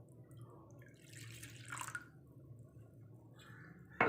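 Water running into a bowl that held chicken pieces for shawarma, a soft steady trickle with brief splashy bursts near the middle and a sharper splash at the very end.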